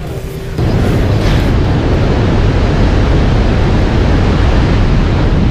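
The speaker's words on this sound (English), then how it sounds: "High surf is pounding parts of the Central Coast tonight" High surf pounding Halama Beach on the Central Coast, a loud, continuous roar of crashing waves that fills the scene with dense broadband rumble and hiss, close and unbroken, with no voices.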